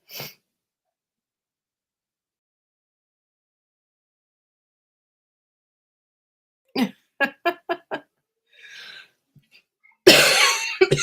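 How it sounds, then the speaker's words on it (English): A quick string of about five sharp coughs after a long silence, then a throat-clearing rasp and a loud burst of noise at the end. "Not sick, but I have cough"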